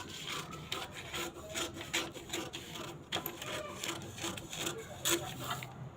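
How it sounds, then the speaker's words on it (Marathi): Scissors snip and rasp through a fabric strip cut for a cotton-style blouse on a tailoring table, a run of close, irregular crisp cuts with rustling cloth throughout. "आता एक पट्टी कट करायची."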